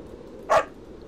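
A single short dog bark or yip from a small dog in the game Christmas Eve - Mitternachtsruf, sounding clear and fairly close against quiet background ambience.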